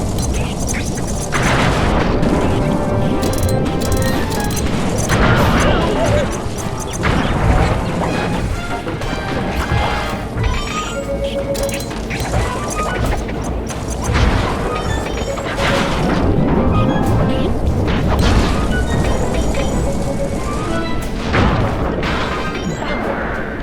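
Bombs exploding in Sly 3 on PS3, a dense run of loud booms, crashes and heavy impacts layered over game music, with voices talking intermittently through the chaos.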